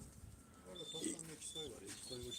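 Pigeons coo softly in a coop, with low, rolling calls repeating several times close by while people talk quietly in the background.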